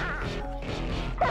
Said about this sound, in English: Ow, bro, you broke the glass.